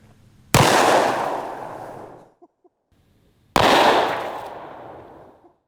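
Two loud, sharp .44 Magnum handgun shots a few seconds apart, fired at body armor, each followed by a long booming echo that slowly fades out.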